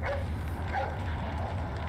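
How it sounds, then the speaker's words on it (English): A dog barks in the VR video game Resident Evil 4 played on a Quest 2, with faint, short yips and barks over a steady low game ambience hum. "Hey, it's that dog."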